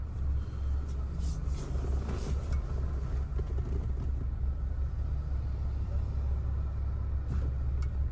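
A car drives along a coastal road in Jamaica, giving a steady low road rumble and engine drone throughout with faint higher wind noise, heard from inside the vehicle with no clear talk.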